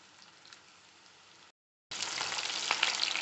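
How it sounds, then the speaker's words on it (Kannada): Black pepper chicken frying slowly in a pan gives a steady, soft sizzle that breaks off briefly, then comes back louder and brighter with a crackling hiss. "ಇದು ನಿಧಾನವಾಗಿ ನಾವು ಬೇಯಿಸ್ಕೊಬೇಕು, ಫ್ ರೈ ಆಗಬೇಕದು."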